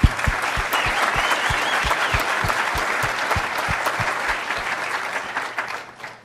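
An audience at a Toronto chapter event claps together, a dense, steady round of applause with some sharp nearby claps, tapering off at the close.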